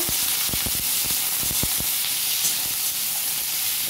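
Thin, long-cut potatoes fry in a pan with a bright, even sizzle and hiss. A quick run of clattering stirs comes early, then the frying carries on alone.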